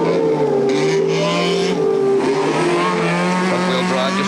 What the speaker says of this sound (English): he revs the head off this car